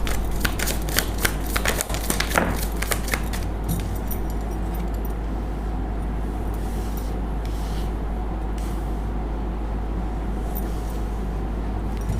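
A quick burst of crisp card shuffling, rapid flicking clicks for a few seconds, then fading into a steady low background hum with no voices.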